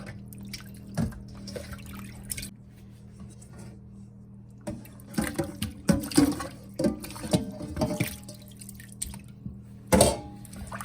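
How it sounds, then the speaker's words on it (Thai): Salted fish being rinsed of brine with water while preparing Lao fermented fish, with irregular splashes, drips and wet rubbing sounds, quiet at first and then busier and louder, close by. "เอามาล้างน้ำเกลือออก ถอกน้ำเกลือออก"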